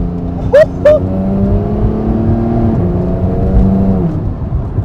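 A Porsche GT3 engine working down through its PDK gearbox, a loud sustained tone that steps lower with each gear change, punctuated by two sharp shift blips near the start, heard from inside the car.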